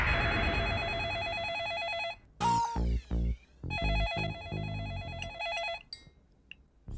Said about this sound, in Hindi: फोन उठाओ आके।